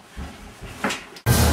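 A kitchen door, likely an oven door, shuts with one abrupt, loud thud near the end, following a few softer shuffling bumps in a quiet room.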